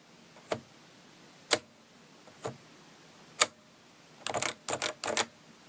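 Several Topre keyboard keys are released together, topping out in a series of sharp, isolated clicks with soft pauses between them, then a few denser clattering bursts near the end; close and fairly quiet, with no voices.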